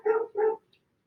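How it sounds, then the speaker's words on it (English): A pet dog barks twice in quick succession during a quiet home yoga session, two short, clear, mid-loud barks followed by near silence. "Maybe you can hear my dog barking in the background."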